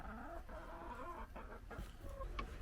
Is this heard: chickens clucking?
yes